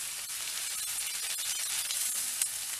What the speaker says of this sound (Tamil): நல்லா வாழைப்பூவை வதக்கணும்.